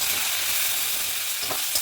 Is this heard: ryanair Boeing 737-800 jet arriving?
no